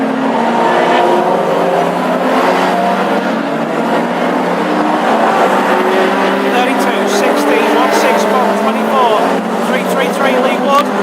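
Classic hot rod race cars lap a circuit at Northampton during a heat, their engines droning and shifting pitch as several cars pass close by, with a commentator talking over the noise throughout.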